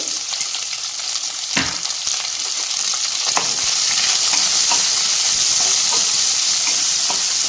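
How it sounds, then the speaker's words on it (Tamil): Small onions sizzling and frying in a hot pan for Tamil tomato kulambu, a steady loud hiss with occasional scraping stirs, growing more intense partway through. "வெங்காயம் நல்லா வதங்கிடணும்"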